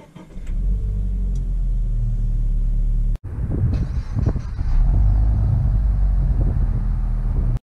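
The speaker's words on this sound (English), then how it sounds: "Set off here in the all-new BRZ" A Subaru BRZ sets off with a low, rumbling engine idle, then a short cut before the engine revs up and accelerates, growling loud and close, with no voices.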